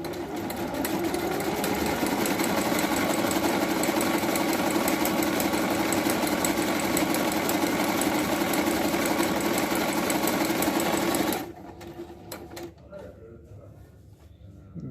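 A Jaguar KM571PP sewing machine stitches with a steady, fast mechanical whir and rapid needle clatter for about eleven seconds before stopping abruptly, leaving faint handling noises.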